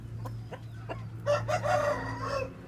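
Hens cluck in short bursts, then an Indian breed rooster crows nearby over a steady low hum, with scattered clucks continuing.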